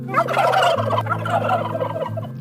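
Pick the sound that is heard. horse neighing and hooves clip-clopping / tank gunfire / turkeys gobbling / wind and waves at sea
turkeys gobbling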